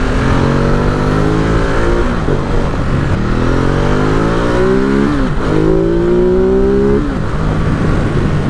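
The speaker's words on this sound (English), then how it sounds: "Oh, that airbox noise." A loud Ducati Multistrada 950 motorcycle engine revving repeatedly nearby, the pitch climbing and dropping with each blip, with a deep throaty airbox intake roar throughout.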